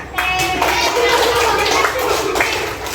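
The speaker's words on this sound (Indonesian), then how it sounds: "Tepuk tangan ini." Children in a school classroom clap their hands together in a lively burst, sharp claps mixed with young voices chanting and talking over them.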